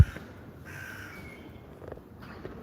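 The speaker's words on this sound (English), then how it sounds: "Oh, a crow just passed by." A crow in an Istanbul park gives several hoarse caws in short bursts, moderately close against a quiet outdoor background.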